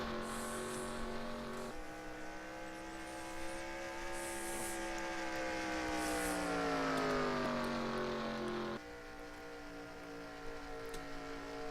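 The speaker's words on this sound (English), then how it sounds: "nationwide cars being run here at Darlington, 129 laps tonight, under the lights" NASCAR Nationwide race cars lap Darlington under the lights, a sustained engine roar rising and falling in pitch as cars sweep past at a distance, with a brief drop as one pack fades.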